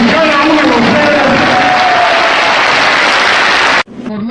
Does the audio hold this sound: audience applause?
yes